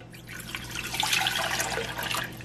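Water poured into a pot on the stove for the tea of arroz con dulce, a steady splashing pour lasting a couple of seconds, close and moderately loud with no talking.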